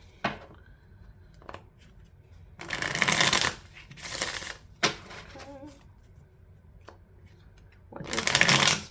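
Tarot cards are shuffled close up in several quick riffling bursts separated by short pauses and faint handling clicks, with no talking.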